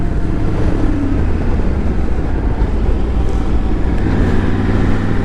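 A Triumph Tiger 900 motorcycle slows under rear-brake braking on a road ride, with a loud, steady engine and wind roar close up and no clear change in level.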